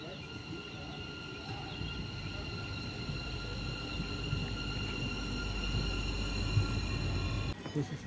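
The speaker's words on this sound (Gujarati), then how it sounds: "જો અમારી ટ્રેન હવે દેખાય છે, હા ટ્રેન આવે છે ફાઇનલી મિત્રો" A train pulls into a large railway station in Germany with a low rolling rumble and faint, sustained tonal whining above it, growing slightly louder before ending abruptly.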